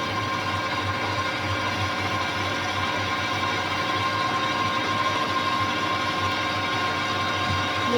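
A drill press bores into an aluminium knob blank in a workshop, a steady, loud mechanical whirring and grinding hum that runs continuously without pause.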